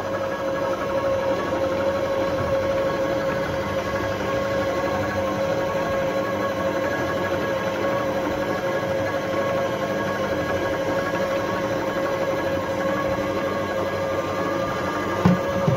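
A kitchen machine kneads bread dough with a continuous, even mechanical hum and rumble, steady and fairly loud throughout, with a small knock near the end.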